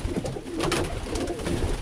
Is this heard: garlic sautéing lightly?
no